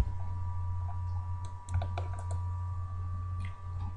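Keys clacking on a computer keyboard as a command is typed into 3D modeling software, a quick burst of several close, crisp taps over a steady low hum, with no talk.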